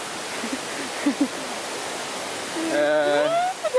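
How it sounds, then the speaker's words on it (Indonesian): A large waterfall roars as a steady, close wash of broadband noise, with a voice talking over it near the end. "This is the true waterfall."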